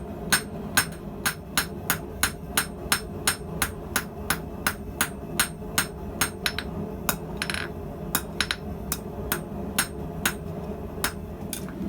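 Steel is hammered on an anvil to shape a knife finger guard, the sharp metallic blows ringing in a steady, fairly quick rhythm of about two to three strikes per second, close by with no talking.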